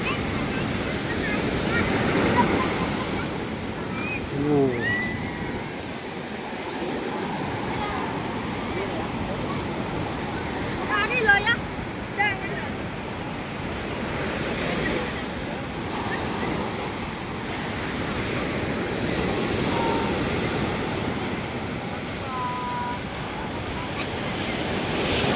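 Rough ocean surf rolls in at Sundak beach in Gunungkidul, a steady roar of breaking waves with gusts of wind buffeting the microphone, while people talk faintly nearby.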